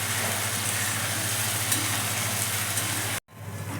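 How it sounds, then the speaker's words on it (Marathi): Tomato paste fries in hot oil over softened onions for a cashew curry, giving a continuous broad sizzle with a low steady hum underneath, cut off abruptly near the end before resuming more quietly. "यामध्ये आपण टोमॅटोची पेस्ट टाकूयात. आणि याला छान असं परतून घेऊयात."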